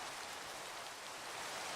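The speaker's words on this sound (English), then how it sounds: "I'm going to sleep to stop this rain." Steady rain falling in the Minecraft game world, a continuous soft hiss of drops on surfaces that stays even and unbroken throughout, with no talk over it.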